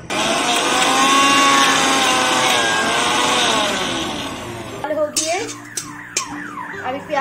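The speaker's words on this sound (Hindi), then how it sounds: "लहसुन और मरीच को, अदरक को और प्याज को पीस लेंगे" An electric mixer grinder whirs loudly and steadily for about five seconds as it grinds garlic, chili, ginger and onion for an egg recipe, then cuts off, leaving sharper, intermittent kitchen sounds.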